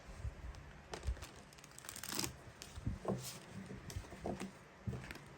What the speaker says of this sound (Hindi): चलिए इस दूसरे डेक से भी हम कार्ड्स निकालते हैं, कुछ एनर्जीज निकालते हैं